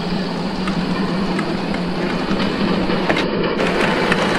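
A fast-running train locomotive on rails, a loud steady roar with rhythmic clickety-clack of wheels close by, no talking.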